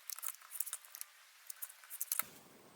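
Scissors or a cutter slice quilt fabric into a 2.5 by 4.5 inch piece, making faint, crisp snipping ticks in a quick irregular patter, quiet and close, ending with a soft low thud.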